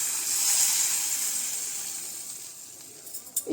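Mustard seeds tempering in hot oil give a steady, bright sizzling hiss that slowly fades, with a few sharp crackles and pops near the end.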